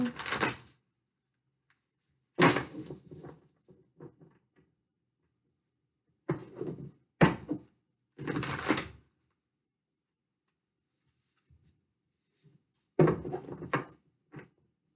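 Tarot cards being shuffled by hand in a few separate bursts of riffling and sliding, with quiet gaps between them and no talking.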